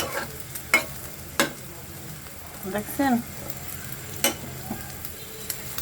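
Eggs with vegetables frying in a pan, a soft sizzle under occasional sharp clicks and scrapes of a utensil, with a brief spoken word near the end.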